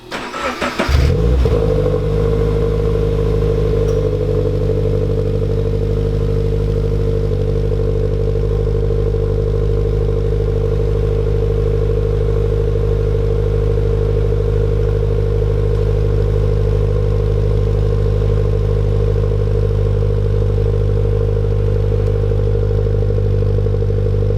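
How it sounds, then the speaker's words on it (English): A Subaru BRZ with a newly fitted exhaust cranks and fires up, then settles into a steady, moderately loud idle that holds for over twenty seconds with no talking. "Finch, can you please do the honors of starting the car, please?"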